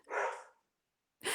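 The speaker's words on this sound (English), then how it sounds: "do you hear my dogs?" Dogs barking at a front door inside a home, two loud close barks separated by a short silence.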